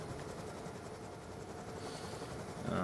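A helicopter in Call of Duty Black Ops 2 whirs and chops steadily amid gameplay noise, at a moderate level and unbroken.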